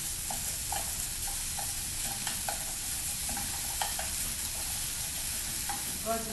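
Seasoned shredded meat stir-frying in a pan with mushrooms, a steady close sizzle broken by frequent light scraping and stirring knocks, with no voices.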